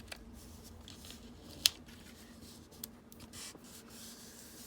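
Scissors snip around a watercolor journaling card with pressed flowers, a few faint close cuts and rustles over quiet room noise, one sharp snip standing out.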